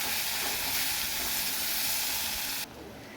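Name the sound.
chopped onion frying in pan for hilsa curry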